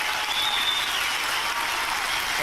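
Theatre audience applauding at a Jesus Christ Superstar stage performance in Australia, a dense steady wash of clapping from a large crowd, continuous and fairly loud throughout.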